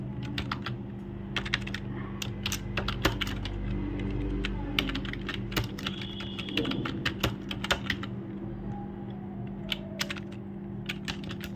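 Computer keyboard typing while entering titles and subtitles on a PowerPoint slide, a steady run of close, crisp key clicks over a low hum, with no talking.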